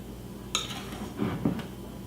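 Cornbread batter is stirred in a bowl, with a utensil knocking and scraping against the sides in a few soft, close bursts and a light clink. No voices.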